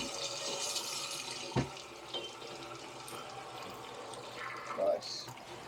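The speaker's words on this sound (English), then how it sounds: "Water's going mad." Water runs steadily from a garden tap with a hissing, splashing rush, punctuated by a few knocks and clunks of plumbing work on copper pipe nearby.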